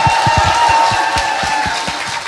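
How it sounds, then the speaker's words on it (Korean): Rhythmic clapping from a studio audience on a Korean talk show, a steady run of fairly loud, close claps over a constant hum, with no talk. "자, 박수 부탁드립니다."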